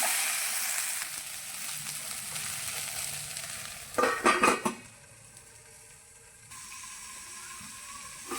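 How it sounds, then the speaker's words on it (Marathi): Okra (bhindi) with a pinch of salt frying in a pan, a steady close sizzle with a brief burst of louder crackling and scraping midway before settling into a quieter hiss. "भेंडी फ्राय करताना थोडंसं नमक टाकूया, म्हणजे लवकर फ्राय होईल"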